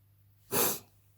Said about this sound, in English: He keeps sneezing.